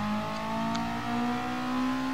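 A race car engine in GT Sport holds a steady, droning high rev, close and continuous for the whole moment with no talk.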